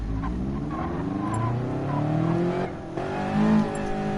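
A Toyota race car engine in the Gran Turismo Sport video game revs and shifts loudly and up close. Its rising and falling pitch sweeps through gear changes, with a brief dip before the engine climbs again.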